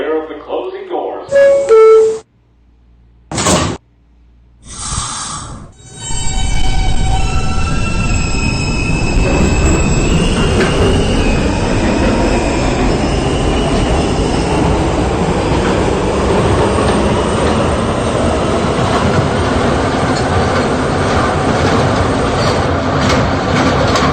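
A New York R160B subway D train runs along the rails, starting after a few seconds of onboard announcements and then holding a loud, steady rumble of wheels and motors with squeals and clatter throughout.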